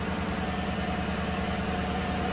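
A 2014 GM truck's 5.3-litre engine idles steadily up close, a continuous low rumble with a faint whine and no talk over it.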